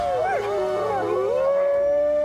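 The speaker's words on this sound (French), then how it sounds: "Qui n'a pas vu des images de loups hurler à la lune?" A wolf howls in one long, loud, wavering cry that rises and slides in pitch. A second howling voice seems to overlap it, and the sound stands alone, close and clear.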